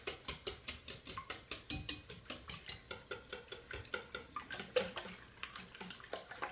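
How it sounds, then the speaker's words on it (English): Eggs whisked in a bowl to break the yolks, a fast steady run of about two dozen wet clinking strokes of the whisk against the bowl, close and alone without talk. "I'm just going to break all of the yolks"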